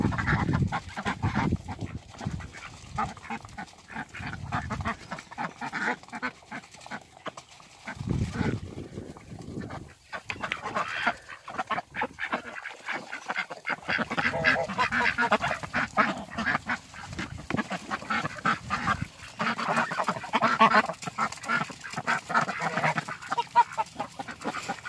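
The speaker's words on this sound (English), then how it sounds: "These are Saxony ducks in the front. This spotted one back here, that's a silver appleyard." Several Saxony and Silver Appleyard ducks quack and honk repeatedly in a noisy, overlapping chorus, close by, with no pauses.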